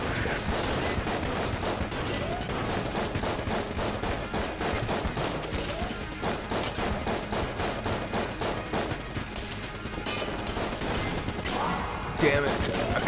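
Rapid gunfire from the video game Enter the Gungeon, a dense, continuous stream of quick shots and impacts at moderate volume, with speech mixed in.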